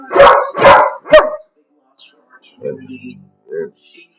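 A dog barks three times in quick succession, loud and close, then a few faint, scattered sounds trail off into near quiet.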